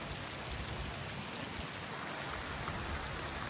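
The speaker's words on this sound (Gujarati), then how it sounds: "દેખો ભાઈ, વરસાદ જો વરસાદ।" Steady rain falling, a dense even patter and hiss of drops on surfaces, continuous and fairly soft with no voices.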